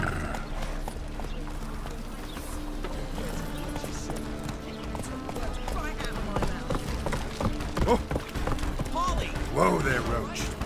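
Roach the horse gallops in The Witcher 3, rapid clip-clop hoofbeats running steadily under game sounds and a talking voice throughout, moderately loud.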